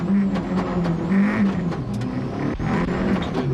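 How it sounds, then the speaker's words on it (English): Onboard a Mitsubishi Lancer rally car on a 1997 rally stage, the engine roars loudly and continuously with shifting pitch, joined by rattles and a sharp thump from the rough stage. "Let's look at the stage from inside the Lancer of Steve Hill."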